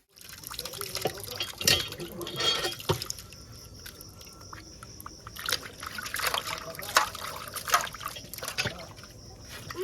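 Water splashes and trickles as a fish, sarputi, is rinsed by hand, with irregular drips and sloshes continuing steadily at close range.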